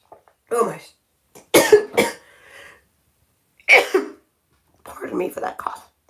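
Several harsh, broadband coughs come in short bursts, with a brief pause between them, close and loud in an otherwise quiet room.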